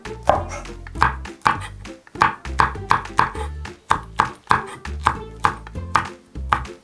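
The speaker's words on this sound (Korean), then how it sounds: "그래서 청양고추는 어슷하게 썰어주세요" A knife slices Cheongyang chili peppers diagonally on a cutting board for water kimchi, about a dozen crisp, evenly spaced chops sounding close and clear with no talking.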